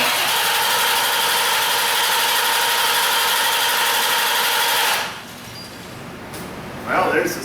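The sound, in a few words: Chevy Corvette engine cranking with throttle held full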